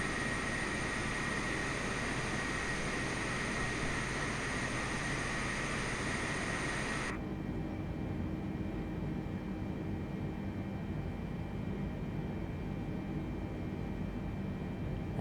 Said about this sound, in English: with the 747, it is a big and heavy jet to taxi, and therefore does require a little bit of power to get the thing moving